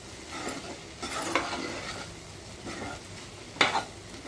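Okra and onion frying in a pan with a quiet, continuous sizzle, broken by soft scraping stirs and a few sharper clinks of the spoon against the pan.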